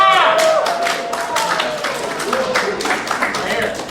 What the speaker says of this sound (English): instead of raising your hands, you can give us a woo. Let's get a woo.